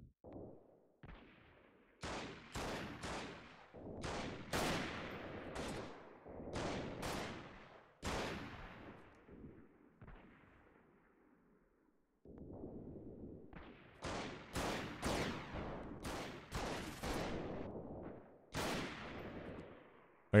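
Gunfire during a large troop battle in the video game Freeman: Guerrilla Warfare, with loud sharp shots in clustered bursts, some echoing, separated by quieter stretches of low rumble.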